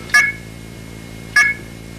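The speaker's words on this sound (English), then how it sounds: "These are the exact tones used by most pay telephones throughout the United States." Two short, identical US pay telephone coin tones sounded by a phreaking program ring out a little over a second apart, each a brief electronic beep over a faint steady hum.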